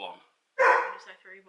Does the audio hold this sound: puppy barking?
yes